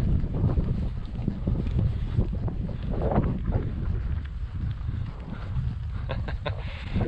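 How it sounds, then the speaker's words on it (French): Strong wind buffets the microphone on a high-altitude golf course at Lac de Tignes, a constant rough rumble with gusty surges throughout and no clear talk. "il y a un peu de vent, donc je sais pas si on nous entend"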